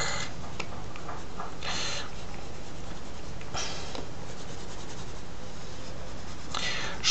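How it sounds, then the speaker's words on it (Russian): Oil pastel scrapes across toned paper in short, dry, scratchy strokes, close up and steady, with brief pauses between bursts of coloring and no voices. "Рисую я на такой тонированной бумаге и масляной пастелью."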